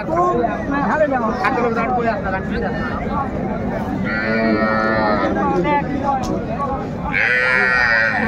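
Cows low loudly at a busy cattle market in Raniganj, Sylhet, with two long, close moos standing out over constant chatter and crowd babble.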